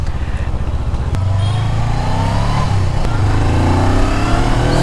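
Honda 500X motorcycle engine running steadily while riding, a loud continuous mid-pitched drone with rising tone as it pulls, wind rush layered over it and no pauses.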